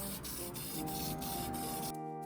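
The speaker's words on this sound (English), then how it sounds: "The wheels were then taken out and sprayed with Krylon gloss" Steady hissing spray of Krylon gloss paint onto small wooden toy train wheels, continuous close aerosol sound with brief rhythmic pulses, ending abruptly in near silence.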